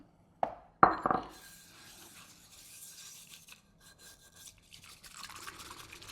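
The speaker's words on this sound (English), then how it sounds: "Okay, let's whisk this up." Bamboo whisk working matcha green tea in a bowl: a couple of sharp taps at the start, then a soft, steady brushing and frothing swish that continues quietly, close by with no talking.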